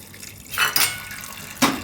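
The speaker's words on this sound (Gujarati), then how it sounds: "આમાં પાણી નાખી દે હું આપણે." Water poured into a pot of dal and soya chunks, short splashy gushes with a couple of light metallic clinks, close and fairly loud.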